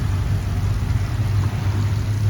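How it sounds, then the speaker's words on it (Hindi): A small water pump runs in a homemade hydroponics vertical farming model, giving a steady, close, low motorized hum with a constant drone and no talking. "यहाँ पंप चल रहा है"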